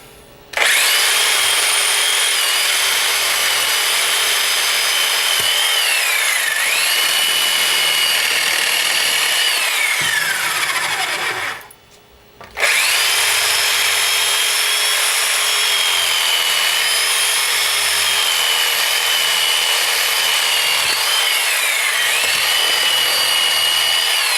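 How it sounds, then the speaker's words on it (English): A power saw cuts through the antlers and skull bone of a deer head while caping, a loud steady grinding whine that runs continuously with one short pause midway, alone without talk. "let me cut these antlers off now"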